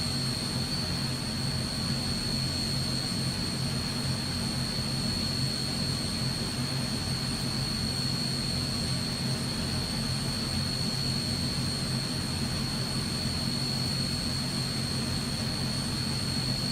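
Transall C160 turboprop engines in Microsoft Flight Simulator hold a steady, loud takeoff roar with a broad rumble and a constant high whine that runs unbroken throughout, with no talking.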